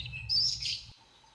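Yellow-billed oxpeckers feeding on a rhino give a short high chirping call over low rumbling background, faint and brief.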